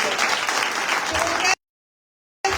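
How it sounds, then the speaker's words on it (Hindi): A church congregation at a one-day Christian conference claps in a dense, sustained burst of applause, cut off abruptly by a short silence before the clapping resumes. "आइए शुक्रगुजारी की तालियां बजाएंगे खुदावंद के लिए, खुदावंद के पाक रूह के लिए।"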